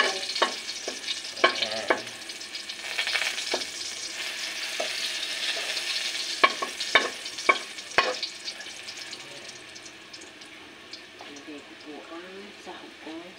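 Garlic fries in a pan with onions for a papaya and sardine sauté, a soft sizzle with a few sharp clinks of stirring, as a person speaks briefly over it and the sizzle fades toward the end.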